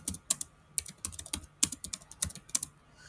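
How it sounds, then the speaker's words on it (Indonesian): Fingers tap a computer keyboard in quick, irregular clicks, close and crisp, with no voices. "kita ketik dulu"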